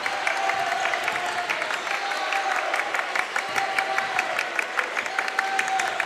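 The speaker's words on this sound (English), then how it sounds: "Crowd, student section comes alive here." A student section at a high school varsity basketball game erupts in dense, loud applause and crowd noise that holds steady throughout, with a faint voice mixed in.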